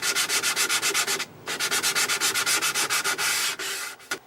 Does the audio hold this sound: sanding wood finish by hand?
yes